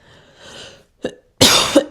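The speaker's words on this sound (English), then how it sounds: "I'm so sorry about my cough, you guys." A couple of sharp coughs, one brief and then a louder, harsher burst, close up after a quieter breathy stretch.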